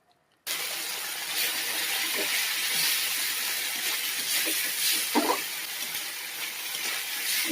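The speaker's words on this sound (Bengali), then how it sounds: "দেখো মশলাগুলো এখন ভেজে নেবো ভালো করে।" Spices frying in hot oil in a pan for aloo potol curry, a steady hiss and sizzle starting abruptly and holding throughout, with a few soft stirring scrapes and no talking.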